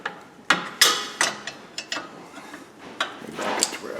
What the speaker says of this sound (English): So we're gonna loosen up this bottom bolt,